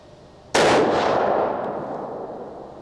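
One loud report from a .270 Winchester Model 70 rifle fired beside a chronograph, its abrupt crack trailing off into a long rolling echo, heard alone without speech.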